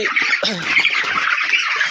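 Broiler chickens on a poultry farm give a continuous close chorus of squawks and chirping clucks, many birds calling at once with no pauses.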